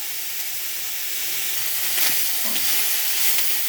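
Beetroot being stirred with turmeric powder and salt in a pan, a steady close sizzle and hiss with soft scraping of the spoon, no voices.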